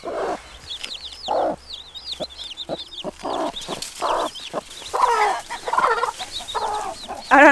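A mother hen clucking agitatedly after being separated from her newborn chicks, loud, close bursts of clucks mixed with the chicks' high peeping, with some handling noise.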